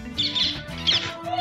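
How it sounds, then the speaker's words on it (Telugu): Birds chirp in a few high, bright bursts, two clear clusters of tweets standing out over a low steady background hum, fairly close and moderately loud. "ఇవాళ పక్షులు"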